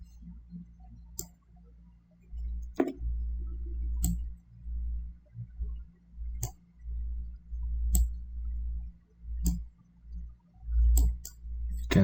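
Computer mouse clicking during Photoshop editing, sharp isolated clicks spaced irregularly a second or two apart over a low room hum, quiet and close with no voices.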